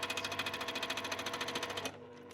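A Juki sewing machine runs at a steady fast stitching rhythm while quilting, close and clear, then stops abruptly near the end, leaving a quiet room.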